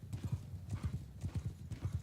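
Horse hooves clip-clopping at a steady trot in Mount & Blade Bannerlord, a rhythmic run of paired thuds repeating about twice a second, close and clear with no voices.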